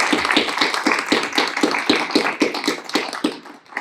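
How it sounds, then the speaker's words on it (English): Audience at a business podcast panel event on mental health claps for the panel, a dense run of hand claps with regular strong beats, close and steady for a few seconds. "Let's give our panel a round of applause here."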